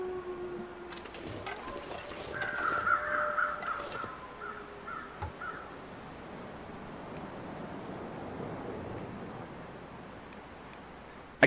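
Crows known as corpse birds in The Long Dark give a short cluster of caws early on, moderately distant, then fade out, leaving a steady windy outdoor ambience with no talking.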